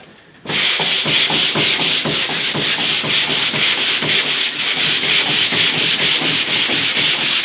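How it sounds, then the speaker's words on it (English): Sandpaper rubs by hand along the grain of Ercol wooden furniture being refinished, removing orbital sander marks: loud, close, rapid even back-and-forth strokes of rasping friction in a steady rhythm, starting after a brief quiet moment, with no talk. "So we'll take out any of those orbital sander marks with the sandpaper."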